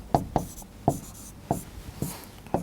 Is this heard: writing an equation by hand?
yes